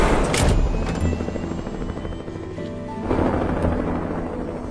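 A helicopter's heavy rotor thrum and engine roar fill the scene, loud and close, with a brief sharp burst near the start.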